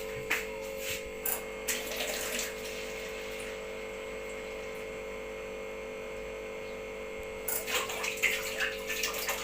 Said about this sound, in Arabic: دي ميه من الحنفيه